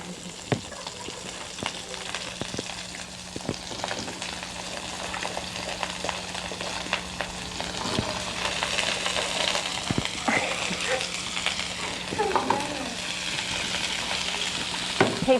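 Mixed vegetables and broccoli fry in a hot pan, giving a steady crackling sizzle with scattered sharp pops and stirring clinks throughout, with no talking.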